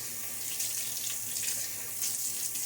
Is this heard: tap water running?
yes